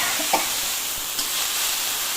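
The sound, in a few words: leafy greens (shak) frying and stirred in a pan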